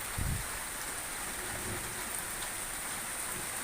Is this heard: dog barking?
no